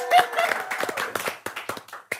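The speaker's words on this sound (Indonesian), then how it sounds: "Tepuk tangan untuk para peserta kita." Studio audience clapping for game-show contestants, a short burst of scattered claps that thins into a few separate hand taps, with some crowd noise underneath.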